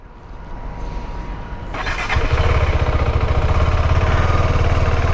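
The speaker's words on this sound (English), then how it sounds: "I'll start to ride this KTM and it has got a punchy first gear" A KTM motorcycle engine idles quietly, then revs up sharply and settles into a steady, loud, throbbing run as the bike pulls away, with no voices.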